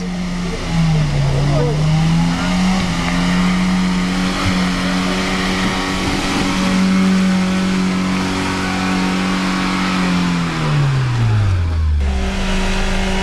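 A UAZ Patriot SUV's engine revs hard and steadily while the vehicle churns through deep mud, the pitch holding high then dropping sharply near the end, with a voice calling out over it.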